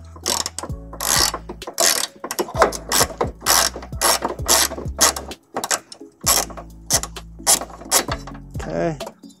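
A ratchet wrench turns a 14 mm bolt on a 2006 Subaru Forester during a trailer hitch install, giving close, loud bursts of rapid clicking strokes with short pauses between them.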